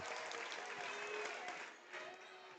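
A crowd at a high school boys basketball tournament game between Warroad and Wadena-Deer-Creek cheers and applauds a three-pointer, steady applause and shouting throughout with a brief dip and then a swell near the end.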